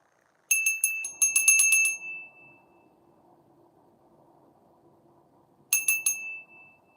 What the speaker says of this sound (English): I got my little bell with me.